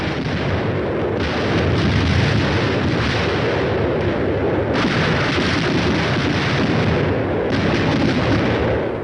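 Air-burst shells fired by a battalion of 105mm howitzers explode over open ground, merging into a loud, continuous roar of overlapping blasts and rumble with no clear gaps between them.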